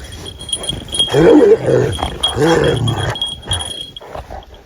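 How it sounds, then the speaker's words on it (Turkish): A Karabaş shepherd dog on a farm lets out rough, growling barks in two throaty bursts, close and fairly loud, with faint background noise between them. "Direkt havlar yani."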